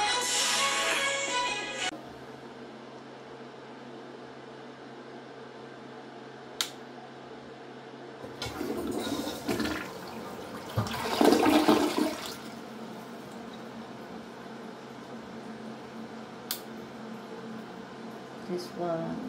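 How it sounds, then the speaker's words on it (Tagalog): Water rushes through a newly installed bidet in a couple of loud, splashing bursts midway, surrounded by quieter stretches of room tone; a brief voice-like sound opens the clip. "I will turn the water on"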